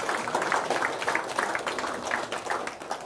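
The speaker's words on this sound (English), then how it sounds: "give yourselves a round of applause" Audience at a keynote talk applauding, a dense, steady wash of many hands clapping, moderately distant and sustained throughout without speech.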